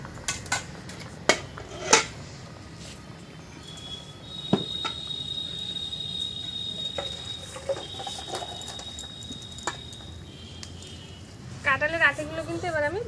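A pot of boiled jackfruit seeds is lifted off a stove in a home kitchen, with a few sharp metallic clanks and scrapes of pot and utensils over a low background hum, followed by a bubbling rattle near the end.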